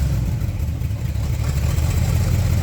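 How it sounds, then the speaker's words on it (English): A swapped engine in a Datsun runs with a low, uneven rumble, the revs lifting and wavering slightly as the throttle is tapped, steady and close with no voices. "The revs still sound really rough though"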